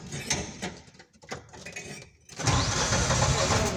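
A Landmaster engine cranks in uneven bursts, then catches and runs with a louder, steady mechanical roar close by.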